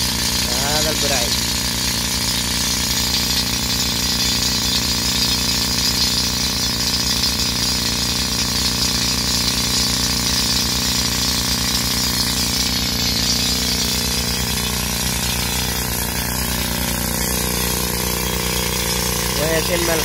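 Continuous mechanical grinding and hammering of rock drilling and digging at a mountain excavation site, loud and steady throughout, with machinery droning underneath and someone talking over it.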